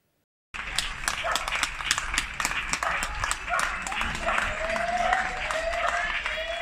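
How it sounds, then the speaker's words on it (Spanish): Staff in a hospital cafeteria in Alicante applaud a nurse on her birthday, a crowd of hands clapping steadily after a brief silence, with a dog barking intermittently and faint voices mixed into the clapping. "el que van escoltar a continuació és l'aplaudiment que ha rebut una sanitària a la cantina durant aquest cap de setmana pel seu aniversari"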